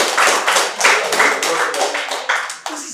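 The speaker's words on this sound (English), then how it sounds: "You can clap if you want." An audience at an evangelist's sermon claps in a steady, even rhythm, a close run of sharp slaps repeating about three times a second.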